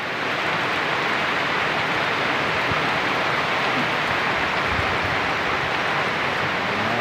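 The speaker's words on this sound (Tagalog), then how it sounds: "May lakas ng ulan, inabot na." Heavy rain pours in a steady, dense roar that fills the whole stretch without a break.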